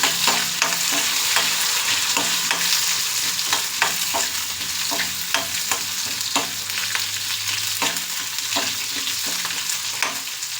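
Whole clove, cardamom and cumin seeds sizzle and crackle steadily in hot oil in a pan, with frequent stirring clicks from a spoon. The sizzle stays loud and close the whole time, and no one speaks.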